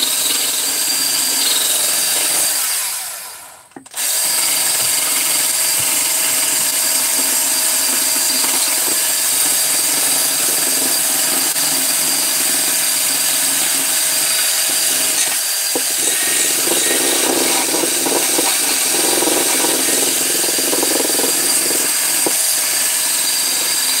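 A motorcycle engine crankcase surface rubbed on 400 grit sandpaper laid over a granite plate, a steady close gritty scraping that continues for over twenty seconds with one brief pause early on.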